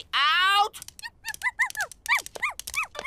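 A dog gives a close, rising, high whimper, then breaks into a quick series of short whining yips, with faint indoor background noise.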